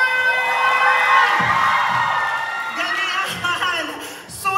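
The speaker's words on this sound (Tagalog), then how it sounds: "Hiyawan!" A crowd at the candidate introductions for the Queen of San Jose 2025 pageant cheers loudly, with high shrieks, whoops and shouting voices overlapping in a sustained, excited roar.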